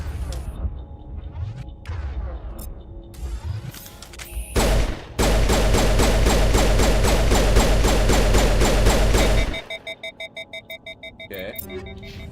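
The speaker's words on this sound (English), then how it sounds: "Let's try these pistols out." Gunfire from pistols in Mass Effect 1, starting with scattered shots, then a long loud run of rapid evenly spaced reports over a dense game soundscape, giving way to a quieter pulsing pattern near the end.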